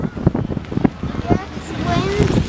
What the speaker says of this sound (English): the higher we get, the rainier it gets. The rainier and windier it gets.